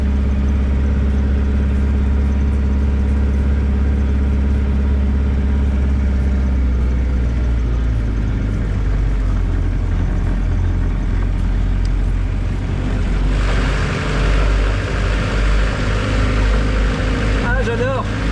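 A Jeep engine rumbles steadily while driving off-road, a constant low drone throughout, with the tone shifting and growing rougher toward the end.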